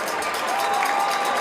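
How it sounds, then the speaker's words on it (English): A high school football stadium crowd roars and cheers on third down, a dense, sustained wash of voices rising steadily throughout. "Crowd getting loud on 3rd down"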